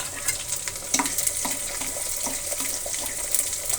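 Onions and curry leaves sizzle in hot oil for an egg and lentil sambar, a close, steady crackling hiss with scattered pops and stirring clicks, no voices.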